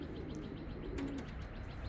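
White racing pigeons arriving home at the loft during a race give soft cooing and chirping calls close by, over a steady background hum, with no voices.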